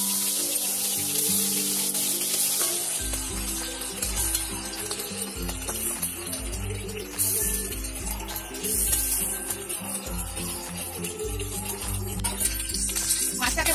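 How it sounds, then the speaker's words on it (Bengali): Shingi fish dropped one by one into hot oil in a pan, frying with a loud, steady sizzle under music; each fish entering adds a fresh crackling burst. "তেলটা গরম হয়ে গেছে, আমি একে একে মাছগুলো ছেড়ে দিলাম।"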